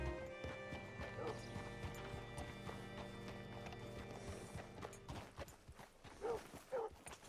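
Horse hooves clip-clop steadily at walking pace in the video game Red Dead Redemption 2, with a horse snorting and whinnying over a low hum of background sound.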